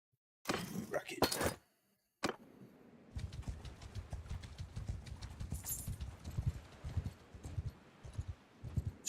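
Horse hooves galloping in the video game Mount & Blade II: Bannerlord: a brief clatter, a short pause, then a steady run of rapid, rhythmic thudding hoofbeats up close.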